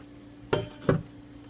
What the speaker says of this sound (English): Here are my snails. Go ahead and drain them.